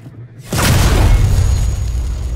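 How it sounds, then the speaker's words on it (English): A loud flashbang detonation in the video game Alien Isolation bursts in abruptly after a brief quiet moment, followed by a sustained roaring, ringing wash that stays strong to the end. "That is a flashbang."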